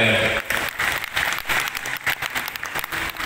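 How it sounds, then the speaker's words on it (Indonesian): Audience applause for IKBR at a traditional Madurese community ceremony in a Sanggau hotel hall, a dense, steady clatter of many hands lasting throughout, with some voices mixed in. "Tepuk tangan dulu untuk IKBR."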